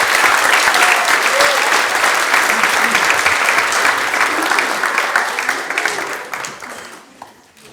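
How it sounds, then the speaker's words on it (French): Sustained audience applause at an eloquence contest final held in the French Senate, a dense, loud wash of many hands clapping that gradually thins and fades out toward the end. "applaudissez-les"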